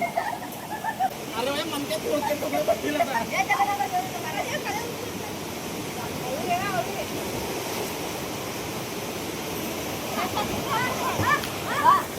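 Water of a village river rushes and churns steadily throughout, a broad continuous wash with faint voices mixed in.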